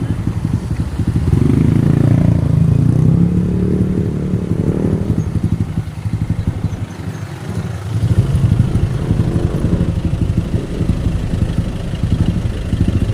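A motorcycle engine running steadily nearby in traffic, a loud, continuous mid-pitched rumble and clatter that surges slightly at times without stopping.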